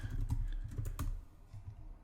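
Rapid computer keyboard typing during a z/VM system administration session, a close run of clustered keystrokes with brief pauses, no voices.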